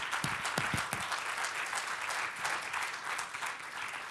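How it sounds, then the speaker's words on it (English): A room full of people applauds, steady clapping filling the space for several seconds. "just give a round of applause"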